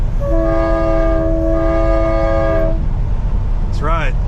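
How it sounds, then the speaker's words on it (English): A train-style air horn mounted on a semi truck hauling hazardous materials sounds one steady blast of about two and a half seconds over the constant low rumble of the truck's engine. "That's right, train horn action."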